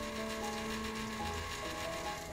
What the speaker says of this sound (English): We'll hear the auger motor and we'll see the light come on.